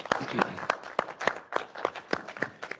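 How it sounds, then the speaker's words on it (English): Rhythmic clapping at an executive committee meeting, honoring Tiffany and her team, with steady, evenly spaced hand claps that sound more like a few people than a dense crowd, and faint voices underneath. "how about a huge round of applause for Tiffany and her team?"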